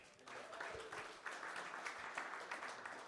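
Conference audience at a venture capital panel applauds the panelists, a steady, moderately faint patter of many hands heard from a distance in a large room.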